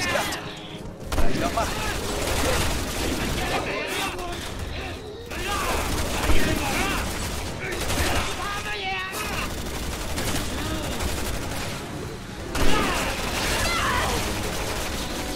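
Tank cannon fire in the Resident Evil 6 video game, heavy booms landing at a few spaced moments within a dense, continuous wash of gunfire and battle noise, with someone talking over it throughout.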